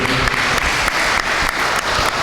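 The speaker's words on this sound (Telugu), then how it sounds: "గట్టిగా చప్పట్లు కొట్టి దేవునికి స్తోత్రం చెల్లించి" A crowd applauds steadily at a church healing service, dense clapping that carries on evenly from start to finish.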